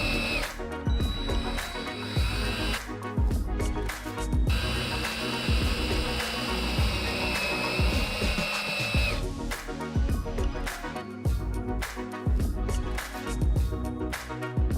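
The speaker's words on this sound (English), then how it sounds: "screwing through the filter box into the bracket" Power drill driving screws through a plastic litter-trap filter box into a mounting bracket, with loud sustained whirring bursts that rise and stop repeatedly amid clunks and handling noise.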